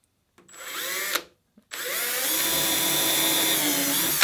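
A power drill spins up briefly, stops, then whirs steadily as it bores into wood on a lapstrake dory, close and loud with no talking.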